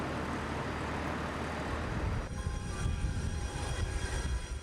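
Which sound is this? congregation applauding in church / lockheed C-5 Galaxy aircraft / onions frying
lockheed C-5 Galaxy aircraft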